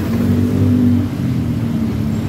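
A Yamaha NMAX scooter engine running just after starting, a loud close low hum that holds steady at idle throughout with no talk over it.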